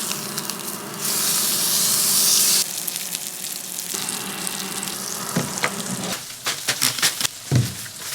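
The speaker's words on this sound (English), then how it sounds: "I'm cooking the steak in its own fat." A steak cooking fat side down in its own rendered fat, with no added oil or butter, gives a loud close sizzle and hiss that swells, then settles into steady spitting with occasional pops and scrapes.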